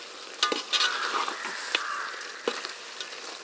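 Scraping stir of thick ground masala for country chicken curry in a pot, a few uneven strokes with a faint sizzle underneath, close by and fairly quiet.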